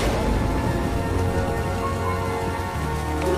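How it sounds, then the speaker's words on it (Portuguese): Rain falls steadily in a dense, even hiss that stays loud and continuous throughout, with a faint low rumble underneath and no voices. "está a chover"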